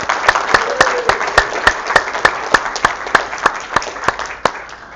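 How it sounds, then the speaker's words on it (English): An audience at a hackathon gives a round of applause, a dense steady patter of many hands with a few sharp, evenly spaced claps standing out nearby. "let's have a round of applause for Xiaohui and sCrypt team"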